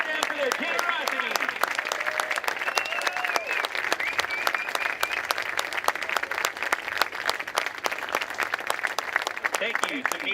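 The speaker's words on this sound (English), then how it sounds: "Please join me again in a round of applause to thank them for their generosity." Crowd in the stands at a Friday night high school football game, Merritt Island Mustangs hosting Titusville Terriers, giving sustained applause, a dense even clapping that runs the whole time with faint voices mixed in.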